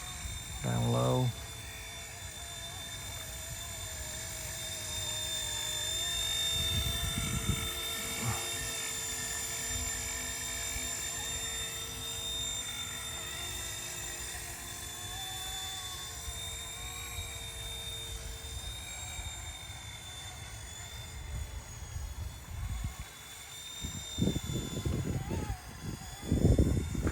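The RC Era C189 MD500 remote control helicopter hovers low in wind, holding a steady high-pitched electric motor whine with a rotor buzz for the whole stretch, while people talk now and then beneath it.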